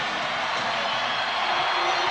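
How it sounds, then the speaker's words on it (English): A basketball arena crowd cheers the Knicks on late in the fourth quarter against the Bulls, a loud, unbroken roar with whoops rising through it, steady and enveloping. "the crowd urging the Knicks on"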